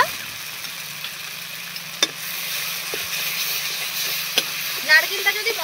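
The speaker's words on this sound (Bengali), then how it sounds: "ঠিক এই সময় দিয়ে দিচ্ছি নারকেল বাটা," Coconut paste and poppy seed paste frying with spices in a pan for a rohu fish dish, giving a loud, continuous sizzle with a few sharp utensil taps and scraping stirs.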